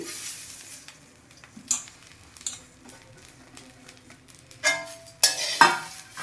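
Moringa and curry leaves roast in a pan as they are stirred, giving a faint, quiet crackle broken by a few sharper scraping strokes. No one talks.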